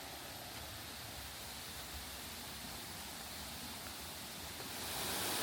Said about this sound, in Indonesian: Curug Kembar memiliki keunikan pada dua aliran air terjun yang jatuh berdampingan dalam satu tebing